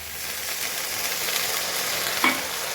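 Crushed garlic and a splash of water added to frying masala, giving a dense, steady close-up sizzle with a brief sharp clink or stir near the end.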